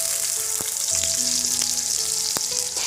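Ginger, garlic and onion fry in mustard oil for a buffalo meat curry, a steady loud sizzle throughout with occasional stirring clatter, no voices.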